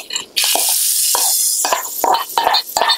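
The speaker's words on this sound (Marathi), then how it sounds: "आपलं तेल गरम झालं ना त्याच्यामध्ये आपली ना मटकी टाकून घेऊ" Moth beans (matki) dropped into hot oil in a pan: a loud burst of sizzling starts suddenly and holds, with small clicks and stirring knocks on top.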